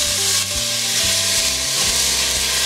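Aromatics sautéing in oil in a pot for pheasant wild rice soup, a loud close crackling sizzle with rhythmic stirring scrapes repeating throughout.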